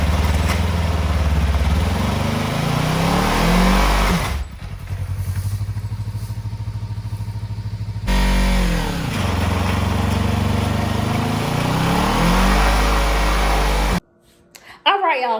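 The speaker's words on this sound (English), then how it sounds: "I'm gonna get this burnout in." A motorcycle engine revs hard and repeatedly during a burnout attempt, loud and close with rising and falling pitch, a brief drop to a steadier idle midway, then an abrupt cutoff near the end.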